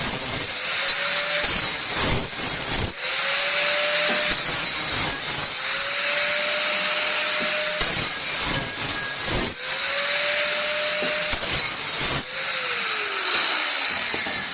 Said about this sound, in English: Now this time I am going to use the plasma cutter because it's going to be easier.